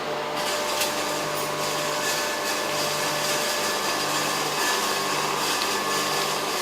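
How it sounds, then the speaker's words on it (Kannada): A home flour mill grinds wheat into flour with a steady, loud mechanical whir and hum, a dense vacuum-like drone with faint rattling texture. It runs continuously and close up, with no break and no talking. "ನಾನೀಗ ನಮ್ಮ ಮನೇಲಿ ಮಷಿನ್ ಐತಿ, ನಮ್ಮ ಮಷೀನಲ್ಲಿ ಹಿಟ್ಟು ಮಾಡ್ಕೊಳಕತ್ತೀನಿ ನೋಡ್ರಿ."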